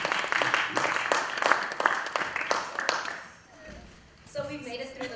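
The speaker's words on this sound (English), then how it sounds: "Please give yourselves a round of applause for being here." Seminar attendees at a Being Black in America session clap for themselves, a burst of fairly loud hand claps that fades out after about three seconds, then a voice begins speaking.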